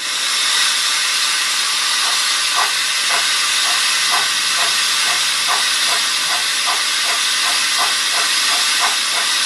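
Digital sound decoder in a Trix Märklin BR44 three-cylinder model steam locomotive puffs in rhythmic chuffs over a constant loud hiss, the beats regular and steady throughout, close up with no talk.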